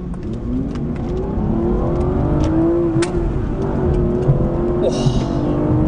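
A 2011 Aston Martin V12 Vantage in track mode accelerates with a loud, close V12 roar whose pitch sweeps upward through the gears, steady and continuous with no talk over it.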